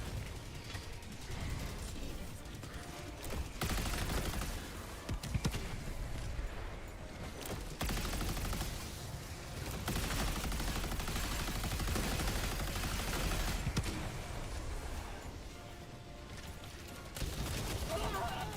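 Repeated booming blasts and rattling fire from an enemy mortar emplacement in Helldivers 2, loud and sustained with recurring impacts, while players talk over the combat.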